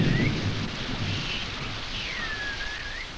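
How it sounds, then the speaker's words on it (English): Heavy tropical rain and thunder in a jungle, a steady loud wash of broadband noise with low rumbling in the first moments, with a faint whistling bird-like tone drifting over it. "In the tropics, rain comes swiftly and heavily, and streams may flood in a flash."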